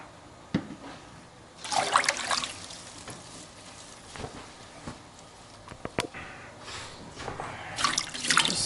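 Vegetables swished by hand in a sink of water with Basic H cleaner, giving intermittent bursts of splashing and sloshing between quieter trickles and a few sharp taps.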